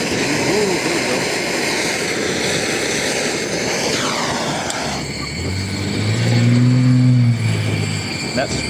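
A homemade waste motor oil gasifier flame blower roars steadily as a broad, dense rumble, building to a louder low drone near the end, with someone talking over it.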